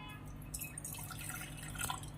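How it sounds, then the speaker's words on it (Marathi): A small amount of water trickles and drips into a gas-stovetop coffee maker, faint and close, with soft splashes over a quiet background. "पहिल्यांदा आपण यामध्ये पाणी घालून घ्यायचं अगदी थोडं अगदी थोडं पाणी घालायचं आहे"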